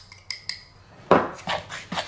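Utensil scraping and clinking against a bowl while stirring and mixing homemade pecan pie crust dough, with several sharp taps early and then heavier, rhythmic scrapes close by, no talking.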